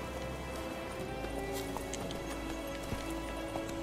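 Horse hooves gallop in a steady rhythmic clip-clop while riding in The Witcher 3, heard close and clear over a faint game ambience.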